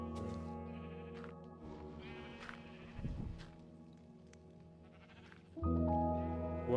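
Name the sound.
sheep bleating in a video game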